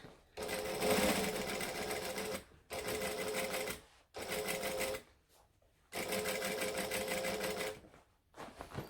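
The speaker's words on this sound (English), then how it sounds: "I'm going to back stitch there." A sewing machine back stitching a boom box airliner cabin bag in four loud, close bursts of rapid mechanical stitching, each separated by a brief quiet pause.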